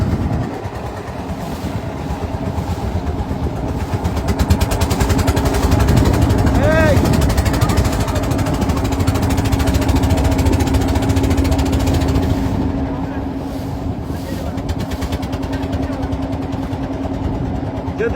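A river boat's engine runs on a river near a Khasi village, keeping up a loud, steady drone with a rattling, knocking pulse throughout.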